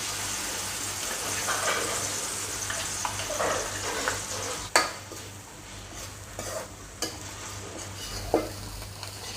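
Vegetarian mock-pork chili paste (nam prik) is stir-fried in a pan: a steady, close sizzle with scraping and stirring and a few sharp utensil knocks against the pan.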